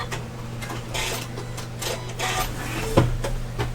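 Sewing machine stitching the first inch or two along one side of a wire frame bag, a steady mechanical hum with a faint rapid needle ticking and one brief louder knock near the end.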